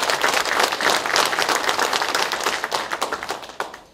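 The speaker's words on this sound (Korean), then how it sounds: "서로를 격려하는 의미에서 큰 박수 한번 치고 시작하십시다" Crowd at a political party rally in Ulsan gives a big round of applause, loud and continuous clapping that swells and then fades out over a few seconds.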